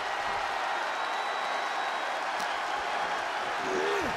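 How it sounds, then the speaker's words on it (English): Roaring wrestling arena crowd in WWE 2K24, a dense wash of cheering and clapping at constant high loudness, with brief commentary-like voices underneath. "The sound of this crowd is deafening"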